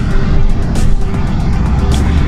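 An MG SUV drives fast in sport mode through a home-town area with speed bumps, its engine and road noise a steady, loud, close rumble heard from inside the car.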